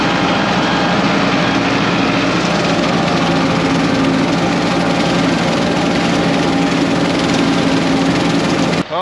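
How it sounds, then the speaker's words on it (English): A mower engine runs in a farm field, a loud, steady droning roar held at constant pitch from start to finish, close by and without talk. "Well, here's the first little spot I'm gonna mow."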